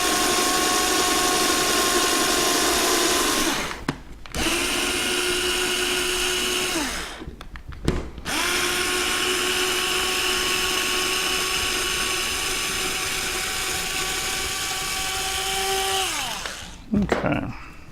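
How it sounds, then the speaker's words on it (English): A loud, steady power drill whines continuously in three long bursts through a quadcopter frame, briefly stopping between each, with a slight pitch dip as it bites in. "And we're going to drill it through."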